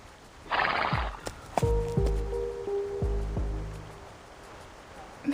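Horses neigh and whinny in a video game, several sharp whinnies with hoof clip-clops, fairly close against quiet ambient background, no talk.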